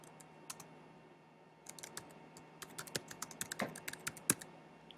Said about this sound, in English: I'm going to press the return key to just go down to the next one and type in all my countries